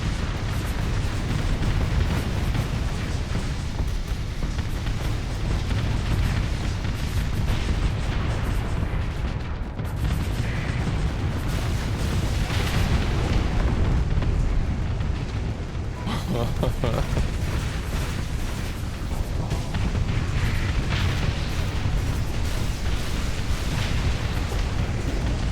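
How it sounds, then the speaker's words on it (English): Missiles launch and explode in a video game, a dense continuous barrage of loud booms and rumbling blasts that runs without letup, with a voice talking over it at times. "Yeah, they do be launching a lot of missiles."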